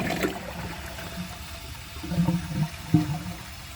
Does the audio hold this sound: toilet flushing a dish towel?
yes